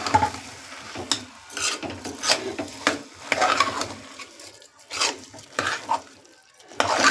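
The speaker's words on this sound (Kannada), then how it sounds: "ಮಸಾಲೆ ಜೊತೆ ಅಕ್ಕಿನ ಮಿಕ್ಸ್ ಮಾಡ್ಕೊಳ್ಬೇಕು" Rice is stirred into masala in a pan while cooking aloo batani bath, a potato and pea rice dish: repeated close scraping and shuffling strokes with a faint sizzle, uneven in rhythm, and no talking.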